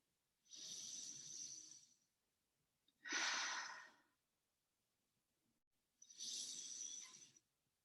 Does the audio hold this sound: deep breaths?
yes